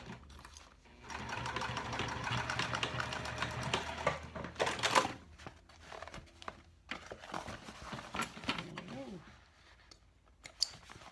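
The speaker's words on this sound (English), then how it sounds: "just stitching across this box" A sewing machine stitches across the box corner of a small fabric tote in steady runs of rapid mechanical clatter with short pauses between them, close by. Soft handling noises come through in the quieter stretches.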